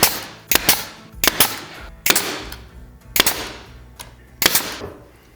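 A brad nailer drives 1.25 inch brad nails into wood while building a garden caddy toolbox, giving about five sharp, loud, close snaps at irregular intervals, each followed by a brief ringing decay.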